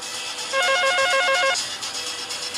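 Electronic telephone ringtone sounds as a caller phones into an Urdu FM radio show, a repeating warbling two-tone ring lasting about a second, loud and clear over faint studio background.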